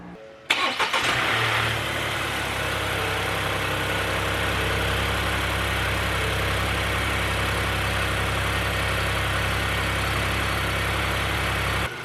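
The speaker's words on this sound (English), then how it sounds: "now that I've got it running, I will let it sit and idle and get up to temp" A 2021 Ford Bronco Sport engine, just back together after a water pump replacement, cranks and catches, then settles into a steady, even idle that holds close and loud for the rest of the clip.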